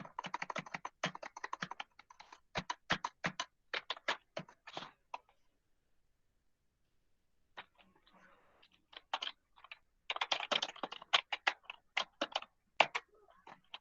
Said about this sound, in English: if I want to type this